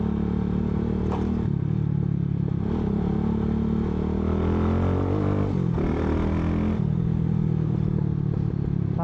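A Mojo 200 motorcycle engine revs through its muffler on a street ride, loud and close, with a rough, raspy drone that climbs and drops through several throttle blips over a steady idle.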